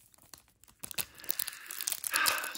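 Plastic wrap being torn off a 1991 Bowman baseball card pack, close-up crinkling and tearing that builds from sparse crackles into a denser, louder rip toward the end.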